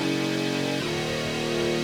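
A buzzy, distorted sawtooth synth tone, a saw wave vocoder into a bent saw wave, holds, then bends downward in pitch and settles into a gritty sustained note.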